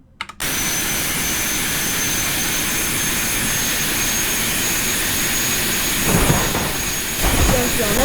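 Jet aircraft engine in the BeamNG.drive video game, a steady loud roaring whine that holds throughout after a brief click at the start, swelling slightly near the end with faint voices in the background.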